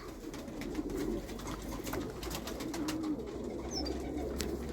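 Soft, low pigeon coos repeat over a steady hum of background noise, with a few faint chirps and clicks.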